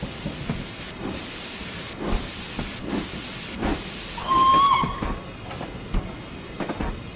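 Steam locomotive whistle in Train Simulator 2016, a Peppercorn K1 on the West Highland Line Extension: one fairly loud sustained tonal blast lasting under a second, set against steady hissing steam and rhythmic chuffing, with a rail-running rumble.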